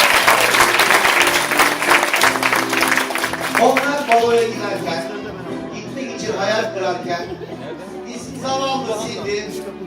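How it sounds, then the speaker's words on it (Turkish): Children and parents applaud at a primary school reading ceremony for a first-grade class, with a burst of clapping over chatter and music that eases into softer crowd noise and talk. "Evet, alkış hak şimdi."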